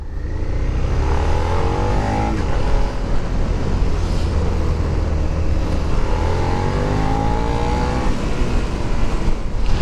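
A Suzuki SV650 motorcycle with ABS on a test ride, its engine loud and close, droning continuously with revs climbing in repeated rising sweeps over rushing wind noise.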